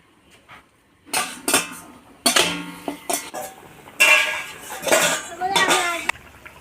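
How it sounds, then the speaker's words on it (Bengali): A metal lid lifted off a pot of rohu fish curry with okra: a string of close clanks and scrapes of metal on metal in uneven bursts, with quiet gaps between. "এবার ঢাকাটা তুলে দেবো।"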